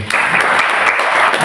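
An audience at a spiritual class at an ISKCON temple in Kulim breaks into brisk applause, a close, loud burst of many hands clapping that fills the short moment without talk.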